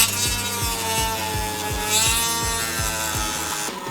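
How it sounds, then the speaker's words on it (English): A Dremel rotary tool cuts through a plastic gauge cluster with a close, continuous high-pitched whine, overlaid by a rapid, regular ratcheting chatter as the bit bites the plastic. "Using the Dremel to go through the plastic is quick and efficient, but it does present some problems."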